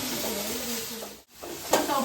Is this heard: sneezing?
no